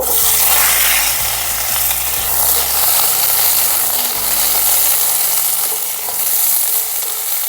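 Olives hit hot mustard oil in a pan, giving a loud, continuous frying sizzle with occasional scraping and stirring clatter, close up and with no talk.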